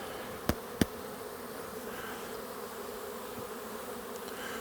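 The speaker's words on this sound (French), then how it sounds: "Alors, je vais enlever les abeilles" Honeybees drone faintly in a steady low hum while being cleared from a hive frame during a nucleus colony inspection, with two sharp brief knocks early on.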